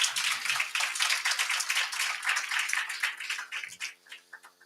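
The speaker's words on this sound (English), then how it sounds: "please give a very warm round of applause to our panel" Warm applause from an indoor audience greeting a luxury industry panel: steady dense clapping at full strength for several seconds, then thinning out toward the end.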